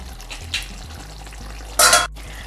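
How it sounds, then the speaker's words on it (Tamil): Village-style chicken roast stirred in a pan, with a low background sizzle, light scraping, and one sharp loud scrape or clank of the spoon against the pan near the end, no voices. "ஒன்ஸ் கிண்டி விட்டுக்கலாம்."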